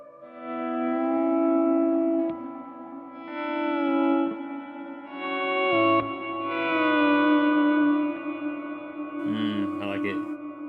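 A guitar sounds through an Ibanez SDR-1000+ digital reverb set to a very long decay of about ten seconds. Sustained notes and chords wash into a lush, lingering tail, and one note fades before the next starts.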